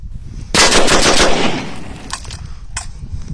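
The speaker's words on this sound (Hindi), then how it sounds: "तो ये अम्मार भाई करके दिखाएंगे रैपिड फायरिंग" An M4 rifle in 5.56 NATO with a long-stroke mechanism fires a rapid burst of about a second at an outdoor range, loud and close, followed by a couple of fainter trailing shots.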